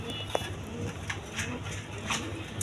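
Blue pigeons sitting on eggs in a breeding loft coo faintly against a steady background hiss, with a few brief clicks and rustles.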